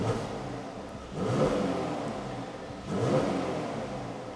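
A stock Mercedes C43 exhaust with its valves closed revs twice, each time swelling into a moderate, muffled rise before settling back toward idle, heard from close by with no talking.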